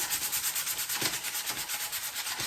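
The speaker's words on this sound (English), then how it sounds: "there's going to be noise because we are sanding" Rhythmic back-and-forth rasp of sandpaper scrubbing wooden furniture, quick even strokes repeating steadily and close up.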